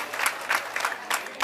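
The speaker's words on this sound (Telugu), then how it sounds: "ఒక్కసారి గట్టిగా చప్పట్లు కొట్టి కొన్ని అభినందిద్దాం" Audience at a volunteer award ceremony claps steadily in a hall, moderate and sustained, with no talk over it.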